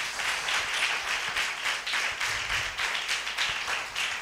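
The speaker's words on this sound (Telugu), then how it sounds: "కొట్టు చప్పట్లు ఇప్పుడు కొట్టు గట్టిగా" A congregation at a Sunday worship service clapping loudly, a dense, rhythmic burst of many hands beating together in a steady pulse, close and continuous with no talk.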